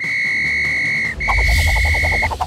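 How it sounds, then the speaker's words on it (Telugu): Police whistle in an animated cartoon, blown as two long, steady, shrill blasts with a brief break between them. A busy rhythmic clatter joins beneath the second blast. "అరే ఇది పోలీసులు వేసే విజిల్ రా"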